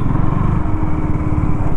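A 2025 KTM Duke 200 motorcycle riding on a road, its single-cylinder engine giving a loud, close, steady rapid putter throughout.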